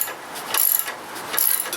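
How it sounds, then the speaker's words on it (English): A hand ratchet clicks in short bursts while tightening 15mm bolts on an Indian Scout Sixty motorcycle, two quick rounds of fine metallic ticking heard up close. "Tighten these two 15mm bolts down next."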